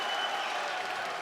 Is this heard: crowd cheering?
yes